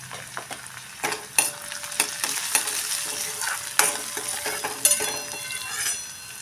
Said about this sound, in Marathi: कांदा भाजत असतानाच त्यामध्ये टाकूया हा छोटा अर्धा चमचा हिंग